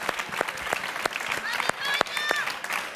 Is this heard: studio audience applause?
yes